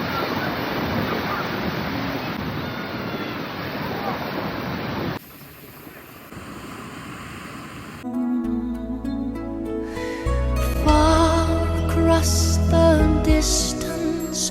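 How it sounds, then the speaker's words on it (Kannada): Ocean waves and wind at the shore make a steady, broad rushing roar close to the microphone. Partway through, the sound changes and music takes over. "ಆ ಓಷನ್ ಸೌಂಡ್ಸು ಎಲ್ಲ ಕೇಳ್ತಿದ್ರೆ ಒಳ್ಳೆ ಫೀಲ್ಸು"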